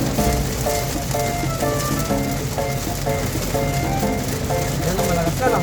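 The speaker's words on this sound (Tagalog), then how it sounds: "Ang lakas ng ulan dito sa Tiplex." Heavy rain at Tiplex hisses as a dense, continuous wash across the whole clip, with faint tonal, music-like sounds and background voices mixed in.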